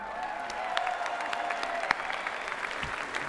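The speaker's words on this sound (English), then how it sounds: "Give him a round of applause." A crowd at a WWE Hall of Fame induction ceremony claps, steady applause with scattered sharp claps and a faint whistling tone, moderately loud throughout.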